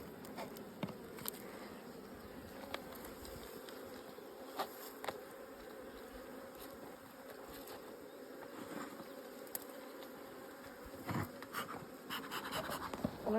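Honey bees drone around an open hive during an inspection, a faint continuous buzz with scattered ticks and knocks from handling of the hive boxes, and no speech.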